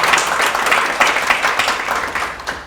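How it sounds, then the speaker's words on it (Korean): An audience claps through the whole stretch, a dense, steady crowd applause at an event that stays loud and even. A faint voice may sit underneath. "큰 박수 한번 부탁드리겠습니다."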